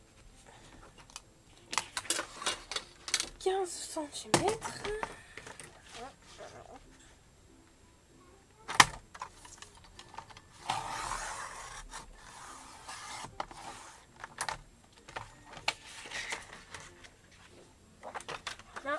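A sheet of paper rustles and scrapes as it is cut to size for a DIY accordion-bound mini album, with rasping strokes and handling noises beneath a person speaking quietly in French.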